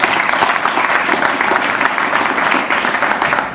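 A large audience applauds volunteer waiters at a hospital volunteer recognition event, with steady, dense clapping that carries evenly through the whole stretch and no voices over it.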